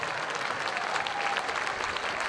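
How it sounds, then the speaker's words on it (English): Crowd applause at a blind football penalty shootout between England and Spain, a steady wash of many hands clapping at moderate distance, continuous and even throughout with no voices on top. "a great round of applause for the England goalkeeper, Dan James"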